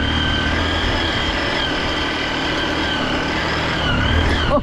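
A motorbike engine runs steadily at close range on a rough rural hill road in Khotang, Nepal, with a continuous low drone and a slight surge near the end.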